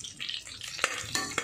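Ingredients stir-fried in hot oil in a home kitchen pan, a soft sizzle with light scraping and a few sharp utensil clicks against the metal, close and quiet with no talking.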